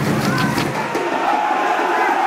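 A home crowd cheers and roars in a soccer stadium in the Dream League Soccer video game, a loud, sustained swell of noise that fades slightly toward the end.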